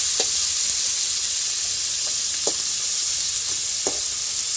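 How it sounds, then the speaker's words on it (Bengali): Chopped onions frying in a pan give a steady, loud broadband sizzle, with a few soft knocks of stirring scattered through it and no voices. "এবার পেঁয়াজ কুচিগুলো দিয়ে দেবো। একটু লাল লাল করে ভেজে নেবো ভালো করে।"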